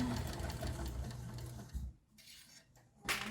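A sewing machine back stitching a messenger bag runs in a steady, rapid mechanical whir, then stops, with a few short clicks and a brief burst of stitching near the end.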